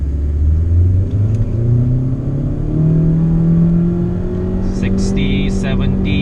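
A car on Toyo Proxes TR1 tyres accelerates through a cone course. The engine drone climbs steadily in pitch under sustained throttle, loud and close, with a few brief squeaks near the end.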